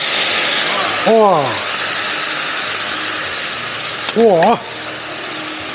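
Pork ribs hit a hot clay pot and sizzle in a steady, bright hiss that fills the clip, while a voice briefly exclaims twice over it.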